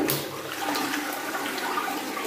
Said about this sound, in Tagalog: Let's flush.